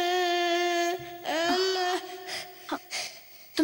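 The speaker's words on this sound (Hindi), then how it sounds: "तुम्हें किसी बच्चे के रोने की आवाज सुनाई दे रही है?" A baby wails in a bungalow in a horror film, with a sustained, tonal, high-pitched cry followed by shorter broken sobs and whimpers, heard clearly and alone.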